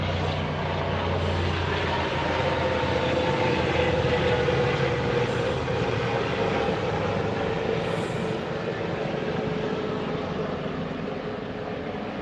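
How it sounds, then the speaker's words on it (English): Helicopters pass overhead at a rural homestead, making a loud, continuous engine and rotor roar that holds steady, with no talking. "okay, here's the helicopters."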